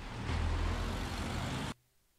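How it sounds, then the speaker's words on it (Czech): A Tesla police car gives off a loud, steady synthetic vehicle sound that cuts off abruptly after under two seconds, leaving near silence. "Tesla, která dělá zvuk auto, jo."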